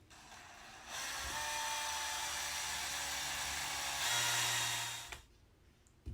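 Power drill running steadily under load, driving a screw into an aluminum rod on a two-layer grow-out pen for hatchlings, a continuous whirring buzz for about four seconds that rises slightly in pitch near the end before cutting off.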